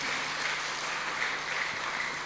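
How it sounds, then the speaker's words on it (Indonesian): Audience applause at a graduation ceremony for students of SMP-SMA Pomosda and STT Pomosda, a steady dense wash of clapping that holds at an even level throughout, with no voices standing out. "Tepuk tangan untuk semuanya."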